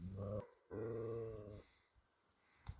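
A dog guarding wild horses in snow growls and snarls at them in two close, loud bursts, the second longer, followed by quiet with a faint click.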